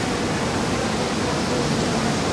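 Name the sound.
breaking ocean wave whitewater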